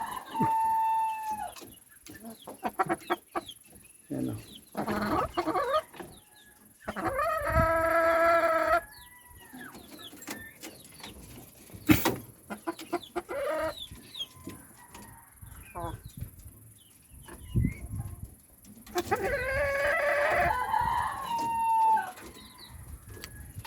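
Chickens cluck and call in bursts, a rooster-like crow rising now and then, with a voice talking intermittently between the bird sounds.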